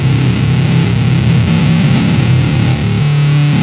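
Glitchy monophonic synth distortion from an EarthQuaker Devices Data Corrupter pedal pours out loud and continuous, its buzzy tone stepping and wavering between notes with gritty digital artifacts.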